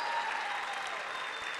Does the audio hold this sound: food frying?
no